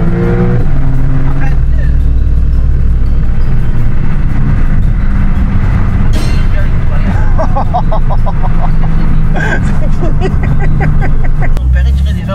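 Porsche 911 or Lamborghini Urus accelerating, a loud continuous engine roar with rising and falling pitch from inside the cabin, with people talking and exclaiming over it throughout.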